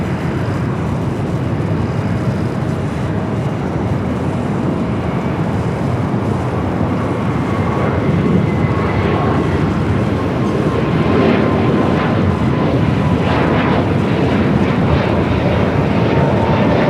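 A jet aircraft taxis toward runway 25 on the south side of LAX, its engines giving a steady, broad, continuous roar mixed with wind buffeting on the microphone, rising slightly in the second half, with no talking.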